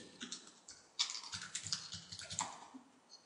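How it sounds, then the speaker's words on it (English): Soft, rapid keystrokes on a computer keyboard as a fake email address is entered into a WordPress user form, a close, quiet burst of irregular clicks lasting a few seconds with no talking. "And I'll type in a fake email."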